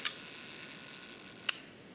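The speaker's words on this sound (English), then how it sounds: "You have these flaps here and you can turn the ring. So we have speeds from 1 second." Shutter speed ring on an Agfa Ambi Silette camera being turned, giving two sharp, faint mechanical clicks roughly one and a half seconds apart over a quiet background hiss.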